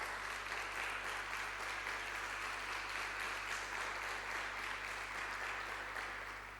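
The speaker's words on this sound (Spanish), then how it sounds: "Dale un aplauso al Señor, por favor." A church congregation claps together in a sustained, even wash of applause at moderate level, with a low steady hum underneath and the clapping tapering slightly at the end.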